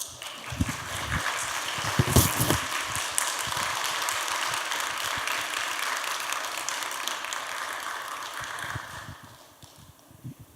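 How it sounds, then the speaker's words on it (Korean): A church mothers' prayer meeting audience welcomes a professor with warm, sustained applause, a steady crackle of many hands clapping that swells early and gradually tapers off near the end. "우리 교수님 우리 모실 때 우리 큰 박수로 환영하도록 하겠습니다"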